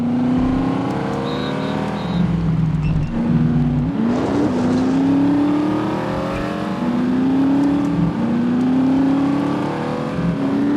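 A 1940s-era car engine in the World War II open-world game The Saboteur, set in occupied France, drones steadily near and loud, with repeated rising revs as gears shift and the car keeps moving.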